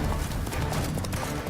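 Horse hooves clip-clop loudly and close in The Witcher 3: Wild Hunt during a horse race, a dense rapid gallop filling the short moment with no talk.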